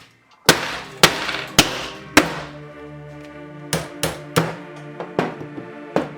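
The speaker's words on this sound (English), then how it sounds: "using a 2-pound brass hammer, I'm going to hammer it." Sharp metallic strikes from a 2-pound brass hammer on metal ring out one after another, a quick burst of four then a steadier series of six, each blow leaving a short ringing decay.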